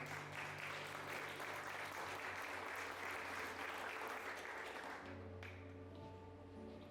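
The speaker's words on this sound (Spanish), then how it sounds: "Yo creo que se merece un fuerte, fuerte aplauso." Congregation applauding in a church, a steady wash of clapping from many hands that fills the space and thins out near the end, with a low sustained tone beneath.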